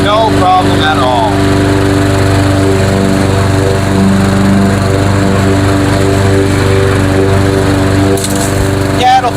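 A lawn mower engine runs steadily close by, a loud, even motor drone with a constant pitch that holds throughout, with brief human sounds near the start and a short clatter near the end.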